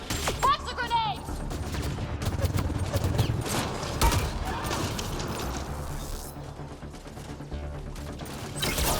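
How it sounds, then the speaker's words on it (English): Grenade blasts and rapid gunfire in the sci-fi shooter video game Mass Effect: Andromeda, a dense, loud, continuous barrage of shots and booms with voices shouting over the combat. "Watch the grenades!"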